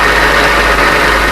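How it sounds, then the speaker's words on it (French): An electromagnetic-brake gear motor drives a crane's slewing rotation, producing a loud, steady, close mechanical hum with a low engine-like drone and broadband whir, unbroken for the whole stretch. "Un moteur réducteur à défreinage électromagnétique produit avec une extrême souplesse le mouvement"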